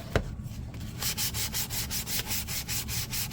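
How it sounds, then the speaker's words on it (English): Sandpaper rubs primer off a plastic Predator biomask in quick, even back-and-forth strokes, close and dry, with no talk. "I don't need to sand it right back down to the plastic."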